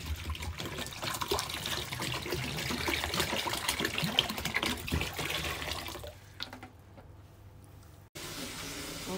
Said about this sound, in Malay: Okey, kita tuang air.